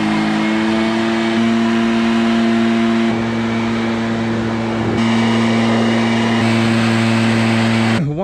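A gas-powered leaf blower runs steadily nearby with a strong droning engine hum and constant pitch, briefly shifting in tone near the end, used for drying a C7 Corvette after a wash.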